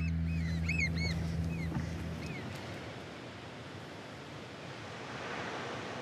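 Waves wash steadily at the Maketu estuary, a broad continuous surf roar, with a few bird calls chirping over it in the first couple of seconds.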